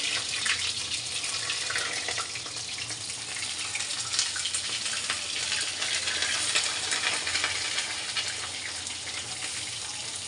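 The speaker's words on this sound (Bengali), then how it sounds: "এই যে পটলগুলোকে একটা একটা করে ছেড়ে দেবো আর পটলের কিন্তু এই পাশ আর এই পাশ কাটা আছে এই যে ভালো করে লাল লাল করে ভেজে নেওয়া হবে" Whole pointed gourds, slit on both sides, fry in hot oil with a steady, dense sizzle that holds evenly and close for the whole stretch, with no voices.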